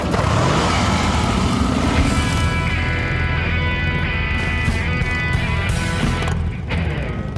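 Motorcycles ride along a highway near the Grand Canyon, a loud, continuous engine roar with wind rush and shifting tones as the bikes cruise together at speed, close and unbroken.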